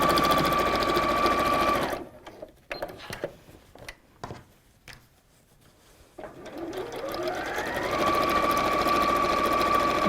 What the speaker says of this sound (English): pivot around and sew. So that's sewn over the straps.